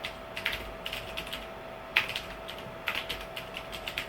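Fingers type on a computer keyboard, producing soft, irregular clicks and a few sharper taps over a faint steady electrical hum.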